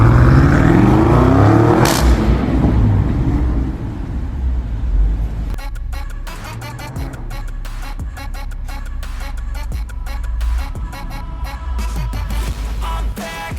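A BMW M850i fitted with a variable exhaust and carbon muffler tips pulls away and accelerates with a loud, rising exhaust note, then drives on under a steady engine rumble while music plays over it.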